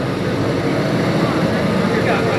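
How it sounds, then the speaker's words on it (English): A car with a loud, faulty muffler at a classic car cruise event gives off a continuous, loud, rough droning rumble that stays steady throughout, close by. "You have a muffler problem, sir."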